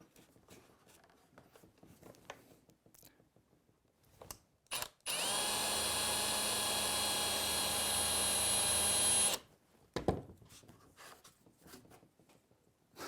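Power drill boring an eye hole into a wooden dowel fishing lure, one steady high whine lasting about four seconds, close and loud, framed by quiet handling clicks and knocks.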